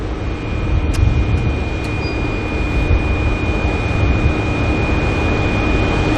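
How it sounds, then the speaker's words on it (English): A small medic plane takes off at Auckland Airport, its engine producing a loud, sustained, broadband roar with a steady whine running through it throughout, heard without any talk. "the little medic plane is going to make it out first"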